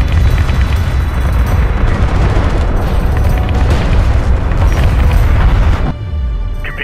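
Sustained roaring blast as an enemy production cruiser is destroyed in the space strategy game Homeworld, loud and rumbling for several seconds before dropping off abruptly.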